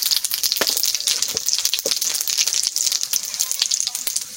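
Cumin seeds and bay leaves sizzle steadily in hot oil in a pan for a chicken curry, with a continuous bright crackle and occasional sharper pops close by.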